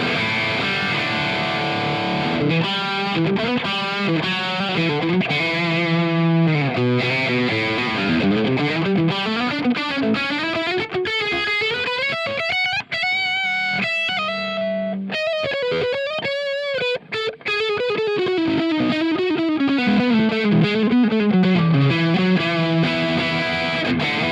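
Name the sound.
electric guitar modern high gain amp tone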